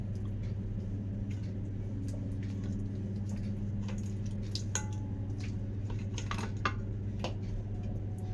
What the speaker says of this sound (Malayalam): മീനെല്ലാതും ഞാൻ ചട്ടിയിലേക്ക് ഇട്ട് കൊടുത്തിട്ടുണ്ട് കേട്ടോ.